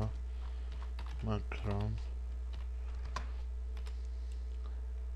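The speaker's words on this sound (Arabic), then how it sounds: "ده معناه كده إن أنا أبدأ بالكتابة" Text being typed on a computer keyboard in Photoshop: a quick run of soft, close key clicks over a steady electrical hum, with someone speaking briefly in Arabic near the start.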